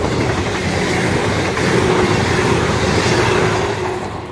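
A train passes at Starcross station with a steady, loud roar of wheels and rolling stock close by, easing off slightly at the end, with no voices.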